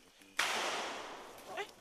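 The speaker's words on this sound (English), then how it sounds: "The rangers hear a gunshot." A single sharp gunshot cracks out in a forest, a sudden loud report followed by a long decaying echo and rumble, with faint sounds trailing near the end.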